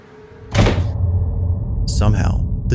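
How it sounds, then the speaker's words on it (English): Two doors open by themselves in a house at night: a heavy thunk followed by a sustained rumbling, then a second rattling, creaking movement about a second and a half later, close and fairly loud. "Somehow, the two doors open on their own, seemingly at the same time."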